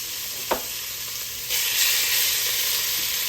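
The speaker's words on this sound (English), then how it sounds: "we're gonna fry them right in its own grease" Pork cracklings fry in their own rendered grease in a pot, a steady loud sizzle that swells louder halfway through as more pieces go in, with a brief clink near the start.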